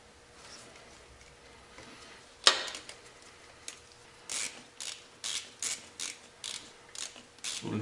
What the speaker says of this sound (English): 6mm socket for the clamp behind the mass airflow sensor